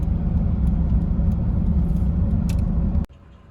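Porsche 944 in European specification running steadily from inside the cabin, a dense low engine and road rumble that cuts off abruptly near the end, leaving a quieter hum.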